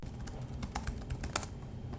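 Keys clatter on a computer keyboard in a quick, irregular burst of close, crisp taps, one stroke louder than the rest, with no voices.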